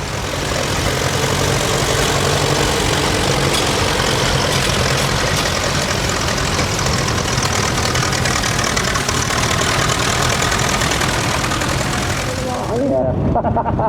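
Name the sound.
tractor engine idling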